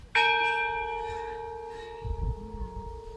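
A woman strikes a bell from a collection of bells from many countries, giving one sharp, clear hit that rings on with a long, slowly fading metallic tone, followed by some faint low knocking near the end.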